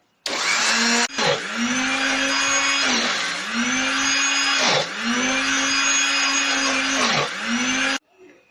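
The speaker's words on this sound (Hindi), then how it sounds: "ब्लेंडर चला देंगे।" A blender motor whirs loudly and steadily for about eight seconds, grinding ginger pieces with cooking oil, its pitch sagging briefly a few times as the blades chew through the contents.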